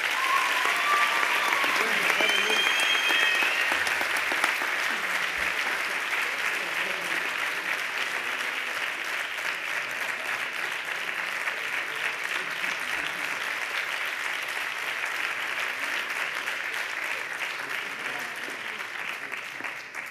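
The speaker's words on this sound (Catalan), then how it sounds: "Un aplaudiment per a ells, sisplau." Audience applause at an award ceremony, a long sustained burst of clapping that stays strong and slowly tapers toward the end.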